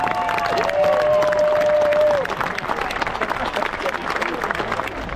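A crowd at a 2024 battle reenactment in Evesham applauds and cheers outdoors, loud at first under a long held voice, then continuing as looser scattered clapping.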